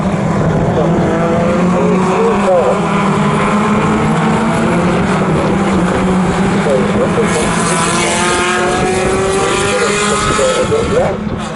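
MG Owners Club race cars racing at Snetterton, loud engines whining and rising in pitch as the cars pass close, with several overlapping engine notes sweeping up and down throughout.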